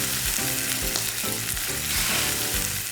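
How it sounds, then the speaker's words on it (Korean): Loud, dense sizzling of a mackerel frying skin-side down in a hot, well-oiled pan, a continuous crackling hiss with soft rhythmic pops underneath. "고갈비 한 마리 껍질부터 척하니 올려놓고 지글지글 구워주면"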